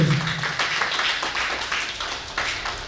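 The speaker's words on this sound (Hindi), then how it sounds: "जोरदार ताली बजाएं अपने लिए" A seminar audience claps together for themselves in a broad, steady wash that holds for a few seconds, fairly close and dense, with no one speaking over it.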